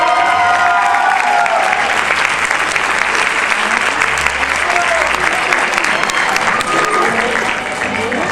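Applause at a graduation ceremony: a large crowd claps in a dense, sustained roar for the full stretch, with a voice briefly audible under the clapping early on.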